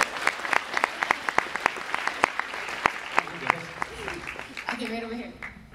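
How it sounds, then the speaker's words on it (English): Audience applause at a fan convention panel with an actor, scattered sharp claps building into steady clapping, with some voices and talk rising near the end. "round of applause for that answer,"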